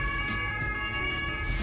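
Ambulance siren passing through traffic: a steady wailing tone sounding clearly over the rumble of road traffic and engines, continuous across the short span with no talking.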